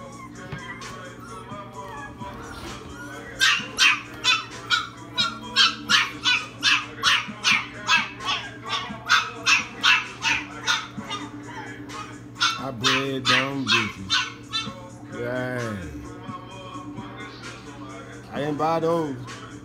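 At a kennel, a puppy barks in rapid, sharp, yappy bursts, with a rhythmic run of barks followed by whimpers and yelps, while people talk nearby.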